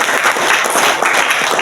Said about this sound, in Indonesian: Beri tepuk tangan dong buat Raja kita.